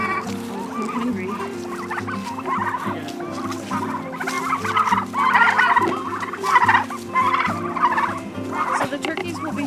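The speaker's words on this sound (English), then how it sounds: "we are now where the turkeys are" A flock of turkeys gobbles nearby, with repeated overlapping bursts of loud gobbling and clucking over a steady background hum.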